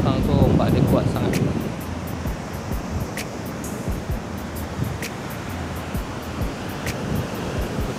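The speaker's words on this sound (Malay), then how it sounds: "So, kalau kau dengar bunyi ombaknya, tengok lah. Belakang tu ombak dia kuat sangat." Strong ocean surf pounds a beach in Phuket as a steady, loud roar of breaking waves, overlaid with gusty wind buffeting the microphone throughout.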